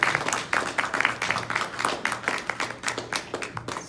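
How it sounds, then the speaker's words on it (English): Children's quiz participants at a Hindu mythology and Mahabharata quiz are applauded. The claps are moderately loud and rhythmic, with individual hand claps audible in a steady pattern for nearly four seconds and no talk. "Give them a round of applause for participating"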